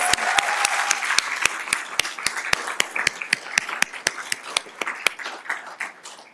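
Audience applause after a cultural performance at a Black History Month celebration, loud at first and thinning toward the end, with a few sharp individual claps standing out in the crowd.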